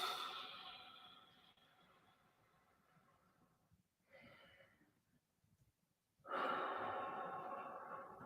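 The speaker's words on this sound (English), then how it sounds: "And breathing again." Deep breaths during a guided Reiki session, with a long exhale fading out, a short quieter breath, then a loud fresh inhale near the end, close and alone without talk.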